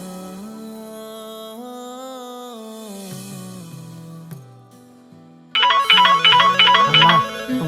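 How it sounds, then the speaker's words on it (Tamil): A phone ringtone plays a sustained melodic tune that steps down in pitch, pauses briefly, then bursts into a louder, brighter, rhythmic ringing pattern, with no talk. "அம்மா உங்களுக்கு ஃபோன் வந்திருக்குமா?"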